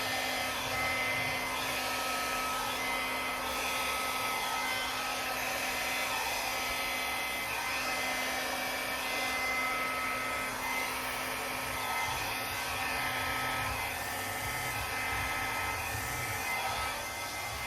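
A hair dryer blows acrylic pour paint across a canvas decorated with hand-painted leaves in copper, gold, blue and black. Its steady whirring roar is loud and constant throughout, with no talk over it.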